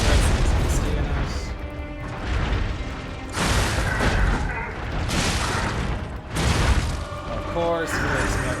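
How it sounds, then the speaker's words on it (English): A boss explosion in the action game Lies of P: several heavy booming blasts and crashes burst out in quick succession over a loud, busy game mix, with no clear talking. "Explosion. Get out of there."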